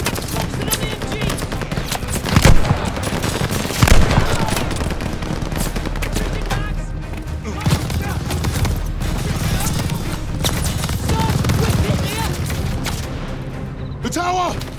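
A tower machine gun in Call of Duty: Vanguard fires sustained bursts of rapid automatic shots, joined by a few louder booms. Soldiers shout over the dense, continuous battle noise.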